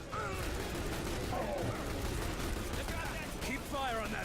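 Gunfire in The Bureau: XCOM Declassified, a dense, steady stream of shots and battle noise filling the whole stretch, with voices talking over the combat.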